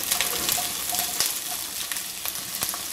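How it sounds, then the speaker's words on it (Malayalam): Ginger, garlic, green chili and onion sautéing in a hot pan give a steady close sizzle and crackle, with occasional sharp pops and spatula scrapes throughout. "നന്നായിട്ടൊന്ന് വഴറ്റിയെടുക്കാം"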